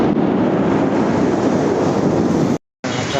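Heavy rain and strong wind roar as a dense, constant wash of noise, loud and close, broken by a brief silent gap near the end, with no voices.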